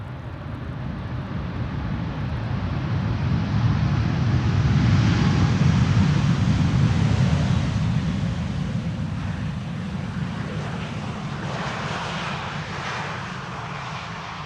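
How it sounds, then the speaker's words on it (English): A Transavia airliner arriving at Amsterdam Schiphol from Barcelona on runway 18R, its engine roar swelling as it nears, peaking mid-way, then easing into a lingering rumble as it passes, with no voices. "Transavia flight 5132, returning from Barcelona"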